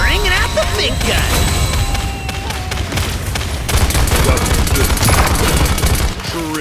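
A big gun firing rapidly in the shooter game Paladins, loud dense bursts of automatic fire with booming impacts, mixed with game voices and effects throughout.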